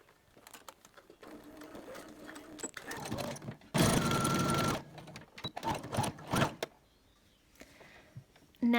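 Sewing machine running a bar stitch on a fabric mask, short bursts of fast rhythmic needle chatter close by, building to a loud sustained run in the middle and ending with another loud burst.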